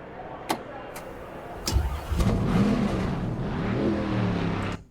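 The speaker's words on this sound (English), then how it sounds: "You can almost feel that car fire up." A couple of clicks and a thump, then a NASCAR race car engine in a video game cranks and catches, settling into a rough, growling idle that rises and swells; faint talk underneath.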